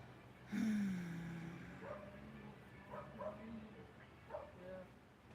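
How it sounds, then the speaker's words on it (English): A neighbor's dog yips and barks a few times at a modest distance outdoors, the short calls spaced irregularly over a low steady background with a voice nearby. "Neighbor's bringing his dog out, sounds like."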